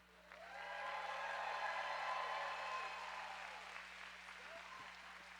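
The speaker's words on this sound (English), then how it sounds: "everybody give it up for all of our officials on skates and off" A roller derby crowd in an arena claps for the skating and off-skates officials, applause swelling over the first second, holding steady and slowly tapering, moderately distant against a low hum.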